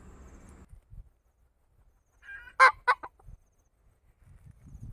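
A couple of sharp, loud clucks from a mother hen scolding her chicks break a near-silent stretch, with faint low rustling before and after.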